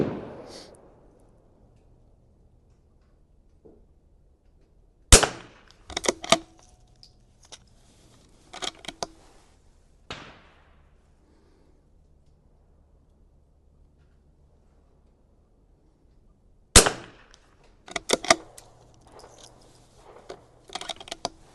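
A Vudoo V22S .22LR rifle fires ten rounds at 100 yards, as sharp, dry cracks spaced out in two bursts of several shots each, with quiet gaps between them and no talk.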